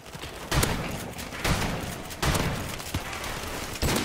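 Heavy Call of Duty 4: Modern Warfare gunfire, loud booming shots in four spaced bursts over a continuous roar of fire.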